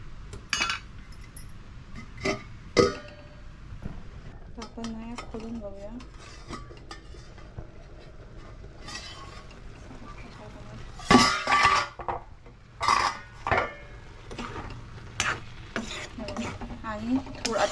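A spoon mixes a taro-leaf vegetable dish in a pot, with intermittent scraping and clinking against the metal. Strokes come in bursts over a long stretch, close by, with faint background noise between them.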